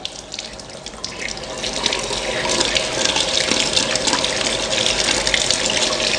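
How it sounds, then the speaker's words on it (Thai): Tap water runs steadily into a sink while fingerroot is rubbed clean by hand, a continuous close splashing gush with no one speaking. "วิธีการล้างกระชายของผมเนี่ย ผมก็จะเปิดน้ำครับ แล้วผมก็ใช้มือถูอย่างเงี้ยครับ"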